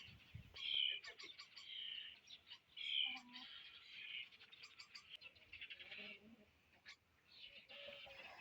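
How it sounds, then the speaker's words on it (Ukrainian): Excited starling calls chirp repeatedly from nearby in a village garden, sharp bright notes in quick bursts with a few short lower sounds between them. "Шпаки хвилюються."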